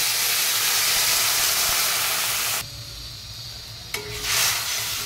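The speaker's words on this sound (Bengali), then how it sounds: "এবার দিয়ে দিচ্ছি জল।" Loud hissing sizzle of frying spices in a hot pan drops sharply as water is poured in, settling into a softer steady bubbling with a brief clatter.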